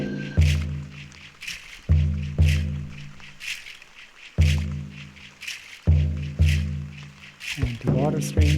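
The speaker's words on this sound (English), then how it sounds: "Some rainforest with rain." Rainforest ambience with rain, layered under a slow, regular deep drum pulse from a shamanic meditation loop pack, with a constant hiss of rainfall filling the gaps between beats.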